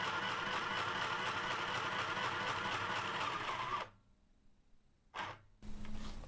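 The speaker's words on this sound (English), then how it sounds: "Now I'm going to press down on the foot pedal continuously to show you how that feels." A mini sewing machine driven at low speed by a steadily held foot pedal gives a continuous mechanical whir and clatter for nearly four seconds, then stops, followed by two short bursts of the motor.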